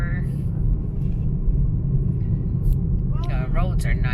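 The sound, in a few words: car driving on road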